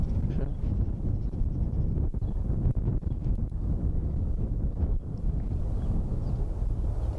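Tree branches rub against each other in the wind, a steady low rushing wind with faint creaks and a few brief knocks, heard outdoors in darkness.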